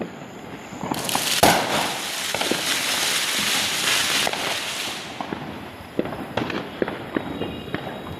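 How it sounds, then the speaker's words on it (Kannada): Diwali firecrackers burst and crackle continuously at a distance, with sharper nearby pops standing out from a dense, rumbling background. "ಎಲ್ಲ ಕಡೆ ಪಟಾಕಿ ಹೊಡಿಸ್ತಾ ಇದ್ದಾರೆ"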